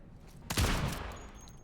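A single gunshot in the turn-based tactical shooter Warhounds, one sharp blast followed by a fading tail, fairly quiet overall.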